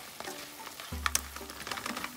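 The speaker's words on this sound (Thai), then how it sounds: "คุณยายจะเอาเต้าหู้ลงนะคะเต้าหู้ลงเลยนะคะเต้าหู้นี้ทอดกรอบนะคะ" Crispy fried tofu goes into a hot pan for a seasoned Thai tofu dish, and a close, crackling sizzle bursts up and keeps frying steadily.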